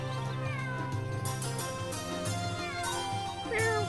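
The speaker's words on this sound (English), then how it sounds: "Kitty!" A cat meows in Suikoden V, several short rising mewing calls over steady game background music, clear and fairly loud.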